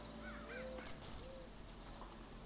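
Short cawing crow cries in a puzzle video game, a couple of quick wavering calls over a steady synthetic game background hum.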